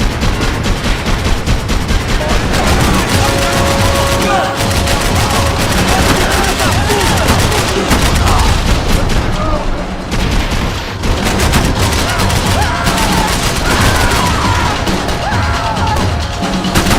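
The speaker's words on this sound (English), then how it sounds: "I can't concentrate with bullets whizzing past my head" Sustained, loud gunfire from a Max Payne 3 firefight: dense bursts of automatic weapons and single shots, with bullets whizzing close by, and voices occasionally under the barrage.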